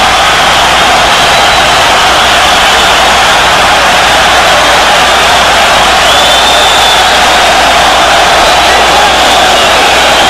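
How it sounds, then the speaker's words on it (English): A packed boxing arena crowd at the Miguel Cotto vs DeMarcus Corley fight cheers and shouts in a loud, continuous roar that holds without letup, a dense, saturated wash of voices. "This is the crowd that's doing this,"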